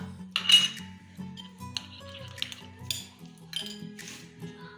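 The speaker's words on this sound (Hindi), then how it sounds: "अब हम इसको करेंगे मिक्स" Spoon clinking and scraping against a bowl while mixing Spanish omelette batter, a series of close, bright metallic taps and stirs at an uneven rhythm, alone without talk.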